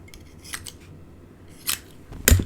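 Scissors snip through cardstock for a papercraft notepad holder, a few crisp close cuts with short pauses between, no voices.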